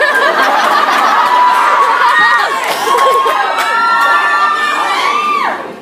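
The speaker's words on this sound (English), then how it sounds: "Everybody's cheering" A concert audience cheers and screams loudly, with many high young voices shouting and whooping together in a dense, continuous roar that fades out at the end.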